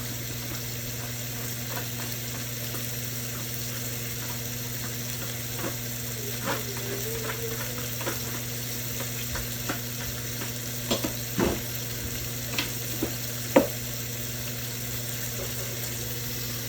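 Beef frying in a pan with a steady background hum, while a spoon stirs it now and then with scattered scrapes and light knocks, louder near the end.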